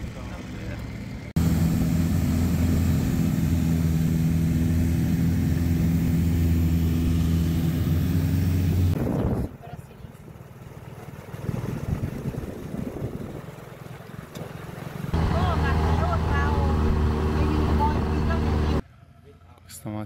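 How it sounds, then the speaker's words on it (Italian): Loud roaring engines and propellers of longtail boats in Thailand, a sustained close droning that cuts off, gives way to lower rumbling, then swells again before stopping abruptly. "queste barchette che con quell'elica mi fanno una paura, ma soprattutto con questi motori inquinano"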